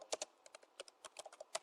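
Quick, light computer keyboard typing with crisp separate keystrokes in an irregular patter, close and soft against a quiet background.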